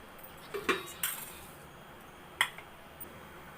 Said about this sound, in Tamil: கொதித்து வர வரைக்கும் நம்ம ஒரு மூடியை போட்டு மூடி வச்சுக்கிடுவோம்